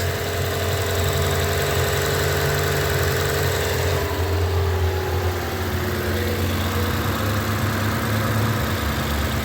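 A Toyota 4.6L 1UR V8 engine idles steadily after an oil leak repair, with a low, constant rumble and hum, close and loud, with no voices.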